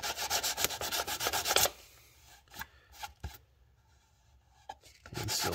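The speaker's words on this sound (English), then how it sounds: "sand over this lip here and make it nice and flush" A part of a 1:650 scale U.S.S. Enterprise plastic model kit being sanded flush by hand, with close rhythmic rubbing strokes in a quick burst, then a few sparse scrapes, and steady sanding resuming at the end.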